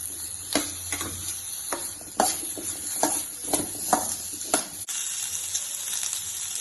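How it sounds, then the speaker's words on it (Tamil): Onions fry in a pan for a village-style mutton kulambu, a soft steady sizzle broken by repeated sharp scraping clicks of stirring, fairly quiet and close, with no talk. "வெங்காயம் 10 நிமிஷம் வரைக்கும் நல்லா வணங்கட்டும்"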